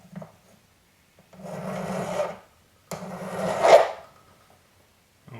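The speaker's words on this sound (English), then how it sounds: "file down each side and then sand it. So, file it." A hand file rasping against a bangle, in two long, steady strokes separated by brief pauses, each stroke close, clear and raspy in an otherwise quiet room.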